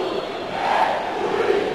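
Cruzeiro football fans in a stadium during a Brazilian league match against Fluminense, a dense, sustained crowd roar that swells slightly partway through, far-off and continuous, with no distinct voices.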